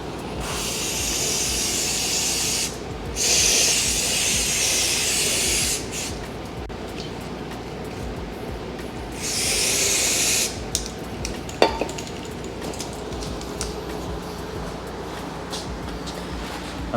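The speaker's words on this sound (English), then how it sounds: "What I'll do is I'll kind of run it through with some brake clean." Brake cleaner sprays through a car's fuel rail during work on an Infiniti Q50, with two loud hissing bursts of a few seconds each. Quieter rustling and handling noise fills the gaps between them.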